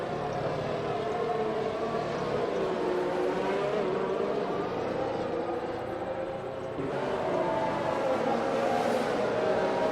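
Race cars bunching up on track in a racing video game at a Russia round, a steady droning engine whine with shifting pitch, loud and continuous.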